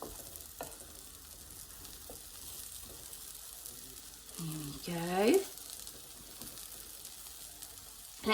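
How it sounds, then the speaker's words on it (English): Pancakes sizzle steadily in a frying pan, a soft continuous hiss close by, while a person speaks briefly and a short scraping clatter from the pan cuts in midway. "They're really sizzling now."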